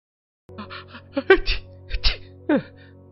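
A person sneezes, with short sharp nasal bursts and breathy gasps in quick succession, close and fairly loud against a quiet background.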